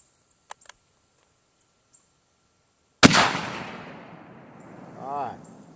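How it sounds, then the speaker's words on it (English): Rifle chambered in 8x57 Mauser firing a cartridge case converted from .30-06 Springfield: a single sharp, loud shot followed by a decaying echo, preceded by faint handling clicks. "I'm going to take that cartridge that I just converted from 30-06 and I'm going to fire it in this rifle."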